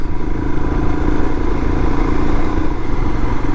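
A motorcycle engine runs steadily while riding, a continuous loud rumble with a low, even throb and no talk over it.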